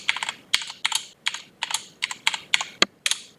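Quick clicking keystrokes on a computer keyboard as a password is typed, a close, uneven burst of roughly a dozen taps over a few seconds with no talking.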